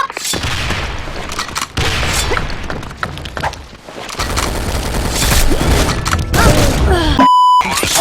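A grenade explodes in the online shooter Sudden Attack amid loud, dense game gunfire and impact thumps, with rapid bursts throughout and an electronic beep near the end.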